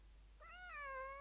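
A cat gives a single clear, drawn-out meow that rises and then falls, close and alone over a faint steady hum.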